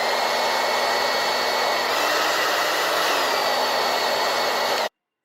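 A hair dryer whirs loudly and steadily with a constant high-pitched hum, briefly shifting pitch, then cuts off abruptly.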